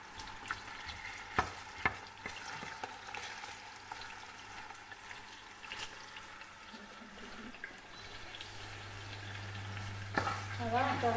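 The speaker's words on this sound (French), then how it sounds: "Voilà, on va rissoler nos petits oignons comme ça." Onions browning in a pan while being stirred, a low steady sizzle with scattered scraping clicks of the utensil, fairly quiet and close, with a brief burst of splashing near the end.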